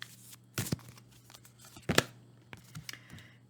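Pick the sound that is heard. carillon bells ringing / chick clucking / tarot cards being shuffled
tarot cards being shuffled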